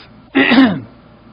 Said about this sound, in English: You hear a cough.